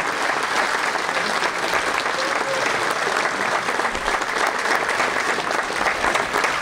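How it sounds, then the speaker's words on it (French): A loud, continuous wash of crowd applause rises for the Halluin municipal wind band at a civic New Year's greetings event, dense and unbroken throughout, with a faint voice briefly audible underneath. "Mais je voudrais qu'on les applaudisse encore une fois. L'harmonie municipale d'Halluin."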